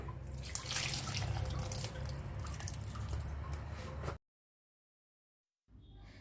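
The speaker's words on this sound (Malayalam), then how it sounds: "ഇനി പുളിവെള്ളം ഒഴിക്കാം" Tamarind water pours into a rasakalan curry in a pot, a continuous splashing, trickling pour lasting about four seconds, then silence, then a faint return of sound.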